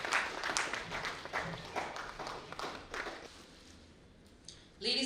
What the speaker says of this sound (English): Please keep the claps going as they release the Atlas and the ELC Anthology.